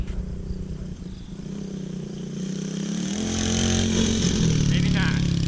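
A motorcycle engine drones at a steady idle, then revs up and holds a higher, rising pitch while the rider attempts a shift into second gear; the engine is close and loud, with voices faintly heard alongside.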